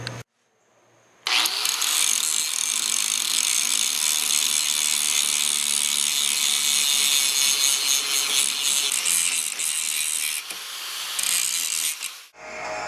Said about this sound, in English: put these in my vise and use my grinder and grind them down so they'll fit